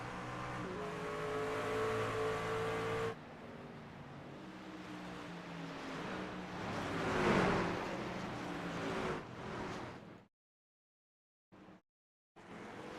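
Racing truck engines roar in the iRacing Truck Series video game at Sonoma, a loud steady drone with shifting pitch and a swell of passing engines, then cutting to near silence with brief bursts at the end.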